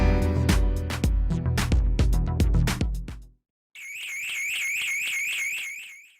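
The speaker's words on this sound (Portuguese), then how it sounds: "A hora que a gente disparou o alarme para eles e avisou que era incêndio" A building fire alarm triggered through a Kiper remote concierge system wails in a steady, rapidly warbling electronic tone. It follows a burst of loud, rhythmic strikes and a brief silence, and sounds close and loud.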